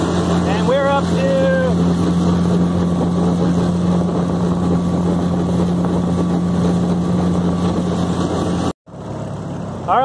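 Tohatsu 15 hp outboard driving two lashed 1436 jon boats at about 19 mph, a loud steady drone with wind and water rush throughout, a brief cutout near the end, and faint voices underneath.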